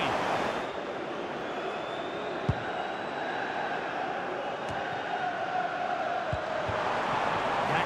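A stadium crowd in the FC 25 video game roars after a Premier League goal, Liverpool against Everton, a loud, steady broad wash of cheering that fills the whole stretch.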